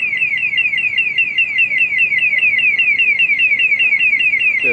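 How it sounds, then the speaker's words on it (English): A shop's burglar alarm rings outside on a seaside harbour front in the morning, a loud, steady electronic tone pulsing in quick regular warbles that continue without a break. "There's a burglar alarm there"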